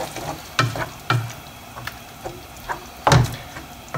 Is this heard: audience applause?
no